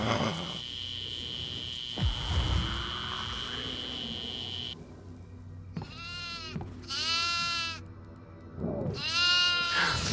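Goats in the horror video game Devour bleat three times in the second half, each call a clear, wavering cry over a dark droning ambience, after an earlier low thud and rumble.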